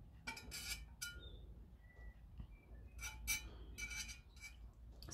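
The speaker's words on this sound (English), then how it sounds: "Sorry about the noise of the metal on glass." Metal tools clink and scrape against a blue glass vase during acrylic paint pouring, in short bright bursts separated by quiet pauses, close and fairly faint.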